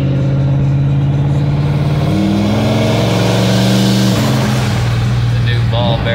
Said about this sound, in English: We'll get them RPMs up a little bit.